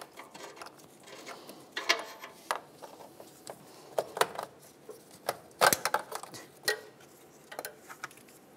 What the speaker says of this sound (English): Let's make our way back over to that O2 sensor, finish turning it counterclockwise to fully remove it from the vehicle.